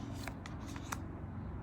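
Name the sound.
handling oracle and tarot cards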